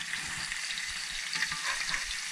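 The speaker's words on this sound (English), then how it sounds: "we got a couple fillets in the pan" Grunt fish fillets fry in a pan, giving a continuous close sizzle with soft bubbling crackle and no voices.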